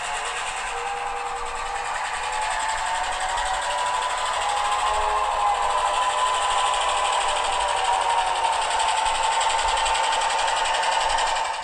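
An EMD SD10 diesel locomotive engine in Milwaukee Road style throttles up, making a sustained, rough mechanical roar with a rising tone that holds steady and fairly loud, with no speech.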